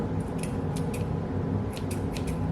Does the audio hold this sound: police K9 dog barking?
no